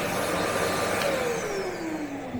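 An electric heater powered by an ALLPOWERS R4000 portable power station makes a loud, steady fan-like whir, and its tone slides gradually lower as it winds down.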